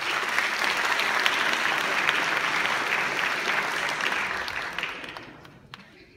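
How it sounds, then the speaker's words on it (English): Audience applause at a school hypnosis show, a dense steady burst of clapping that holds for several seconds, then thins and fades out near the end. "How about a nice round of applause?"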